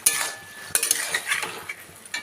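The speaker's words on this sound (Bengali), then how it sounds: "দিয়ে ভালো করে আমি লাউ শাকের সঙ্গে মিশিয়ে নিলাম।" Bottle gourd greens with eggplant and hand-crushed dried chillies are stirred in a pan, with scraping and clinking utensil strokes at irregular intervals over a faint background.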